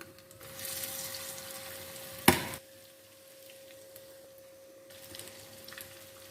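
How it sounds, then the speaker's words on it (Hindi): Egg pakoras fry in hot oil with a steady sizzling hiss that swells and fades, broken by one sharp clatter, up close in a kitchen. "बाकी भी हम इसी तरह से फ्राई कर लेते हैं।"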